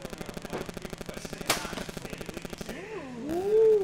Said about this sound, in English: That was a very good shot.